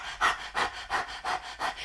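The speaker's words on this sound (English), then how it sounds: "a panting breath across the tongue." Kundalini yoga breath of fire done with the tongue out, six quick rhythmic panting breaths in even succession, close and fairly soft.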